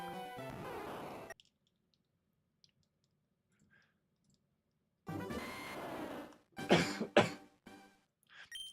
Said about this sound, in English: I've been coughing like crazy for like the past half an hour